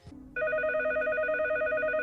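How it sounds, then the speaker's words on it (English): The cheese phone in a TMNT cartoon rings with a steady, warbling electronic trill that starts abruptly after a brief low tone and holds loud and unbroken. "The cheese phone. Truly an emergency."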